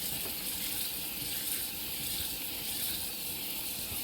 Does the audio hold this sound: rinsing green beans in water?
yes